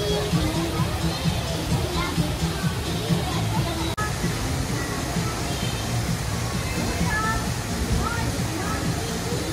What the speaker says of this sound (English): They got like a little rapids here.